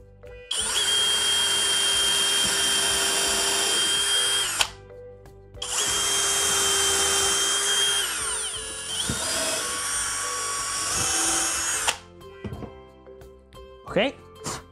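A DEKOTOOLS 20V brushless cordless drill whirs loudly in two long sustained bursts, separated by a short pause, followed by shorter revving spurts and clunks.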